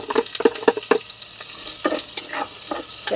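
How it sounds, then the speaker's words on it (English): Chopped red onion frying in hot oil at a wild camp, with steady sizzling broken by a run of sharp utensil clicks and scrapes from stirring, close by. "into the hot oil, I'm going to put some red onion, a chopped red onion"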